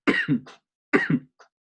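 A person coughs twice in quick bursts, close and loud, with a faint trailing breath after.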